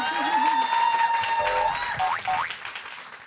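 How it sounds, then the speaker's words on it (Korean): Audience applause at a televised book concert in a Korean lecture hall, a steady wash of clapping running about three seconds, with tonal voice or music traces riding over it. "박수 한번 쳐주시죠."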